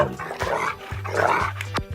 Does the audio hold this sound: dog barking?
yes